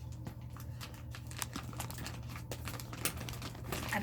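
A plastic-covered package box of yarn is ripped open by hand, making close, irregular crinkling and tearing bursts at a fairly low level with no talking.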